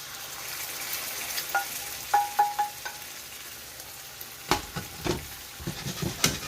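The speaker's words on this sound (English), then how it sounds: "go with our salsa right over the eggs" Salsa poured over fried eggs in a pan simmers and sizzles steadily, broken by several clanks and scrapes of a utensil against the pan, close and moderately loud.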